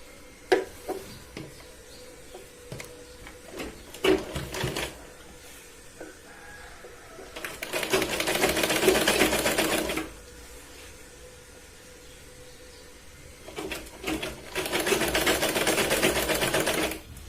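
Sewing machine stitching a folded strip onto a katori blouse runs in two steady bursts of a few seconds each, close and moderately loud, with quieter handling clicks and rustles of the fabric in between.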